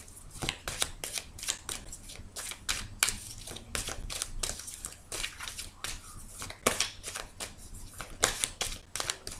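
Tarot cards are shuffled and cut for a reading, producing rapid, crisp riffling bursts and flicks that repeat close up throughout, with brief pauses between shuffles.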